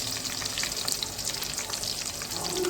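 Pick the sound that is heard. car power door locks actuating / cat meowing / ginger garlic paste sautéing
ginger garlic paste sautéing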